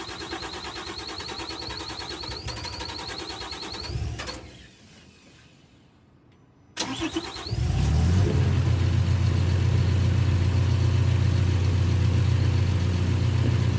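A small engine, just back from a fuel line repair, cranks, cuts to near silence, then fires up and settles into a loud, steady running drone that continues to the end.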